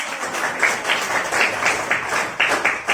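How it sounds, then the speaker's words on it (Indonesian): Classroom of children applauding after their teacher's closing words, a steady wash of small hands clapping with some uneven peaks, close and moderately loud. "Tepuk tangan untuk kita."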